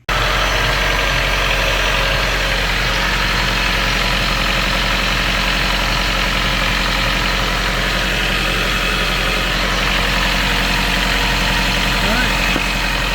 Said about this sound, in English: we're going to go ahead and start the car up and check for leaks